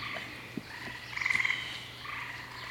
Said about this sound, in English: those frogs are happy right now for some reason